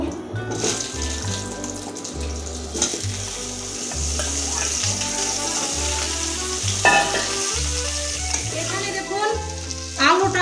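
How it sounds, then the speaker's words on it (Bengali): Cut potatoes frying in hot oil for a Bengali fish curry, a loud continuous sizzle and bubbling with scraping stirs and a few clinks, a low hum beneath, no talking. "আলুটা আমি ওই তেলে ভেজে নেবো"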